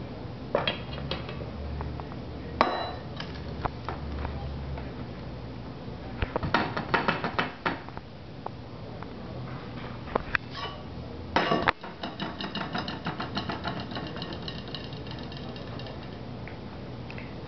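Pastry blender working Crisco shortening into three cups of flour in a bowl, a busy run of scraping, clinking taps against the bowl with several sharper knocks, steady and close throughout.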